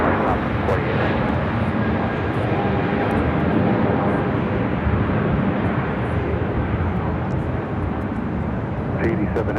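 An airliner roars steadily down the runway on takeoff at Los Angeles International Airport, a loud, continuous broadband engine rush with faint tower radio chatter mixed in.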